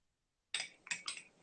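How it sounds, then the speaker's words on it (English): A metal spoon clinks against a tea cup while stirring tea, silence first, then three or four quick, bright taps close by. "let's stir me tea"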